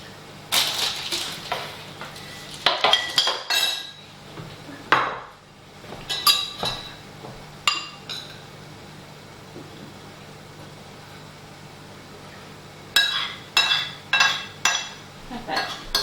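Veggie meatballs and rice dished up onto plates at home, with bursts of clattering dishes, scraping spoons and clinking cutlery coming in irregular clusters, close by, separated by quieter pauses.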